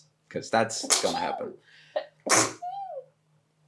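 A single sharp sneeze bursts out close by, set between stretches of conversational speech from people talking in the room.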